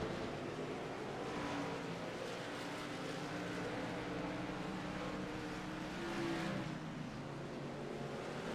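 Race truck engines at North Wilkesboro Speedway in a racing simulator game drone as a dense, steady roar of several vehicles running together, with no talk.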